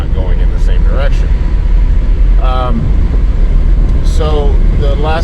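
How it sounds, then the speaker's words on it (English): A car with bad wheel alignment rolls over smooth pavement, its tires whining beneath a steady, loud road rumble, while someone talks intermittently over the noise. "you can totally hear the tires are whining because they're fighting and not going in the same direction"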